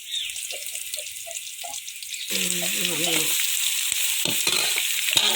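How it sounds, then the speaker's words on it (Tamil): Crushed garlic hits a hot pan of softened onions and starts frying, a loud steady sizzle with stirring scrapes, cooking for a Tamil okra and tamarind kootu curry. "தட்டி வச்ச பூண்டை போட்டுக்கலாம்"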